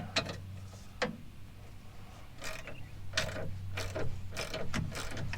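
A ratchet wrench clicking as it is swung back in reverse on a rear strut of a Honda Ridgeline, with several bursts of rapid ratcheting ticks and creaks up close over a low steady hum, and no voice.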